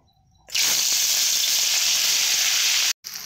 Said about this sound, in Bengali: মাছগুলো ফেলে আরেকবার ভেজে নেব।